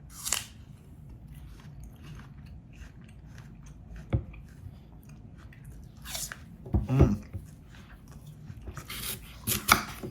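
A few sharp, crisp crunches of biting into a Lady Alice apple, spaced apart, followed by quieter chewing against a low background.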